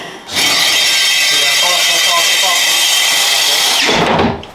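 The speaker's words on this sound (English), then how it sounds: "Drilling a hole this size with a drill this big, it's a pretty scary task actually." A loud, large power drill drilling a hole whines steadily for several seconds at high speed, close by, then spins down abruptly near the end.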